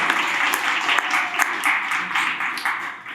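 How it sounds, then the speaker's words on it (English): Sustained audience applause at a panel discussion, dense clapping from many hands filling the room steadily for a few seconds, with a few sharper claps standing out. "Give him a round of applause, Dr. Michael Leahy"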